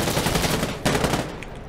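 Rapid bursts of automatic gunfire in the video game Insurgency Sandstorm, loud and close, with a sharp shot near the middle before the shooting tapers into quieter echoes.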